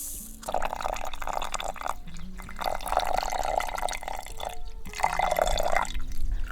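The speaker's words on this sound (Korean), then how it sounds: "물은 한 컵 반 정도 넣어준다." Water pours steadily onto two cups of sugar spread in a pot for candied-fruit syrup, a close, continuous trickling in three bursts separated by brief pauses.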